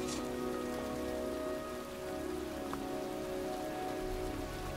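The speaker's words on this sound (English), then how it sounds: "It's cold. It's raining." Steady, dense rain from the Heavy Rain video game's cemetery scene hisses and patters continuously, with a low rumble underneath and no voices.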